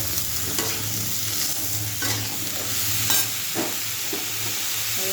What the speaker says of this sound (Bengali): এর মধ্যে আলুটা ওইটা দিয়ে দিলাম, দিয়ে একটু নাড়াচাড়ি করবো।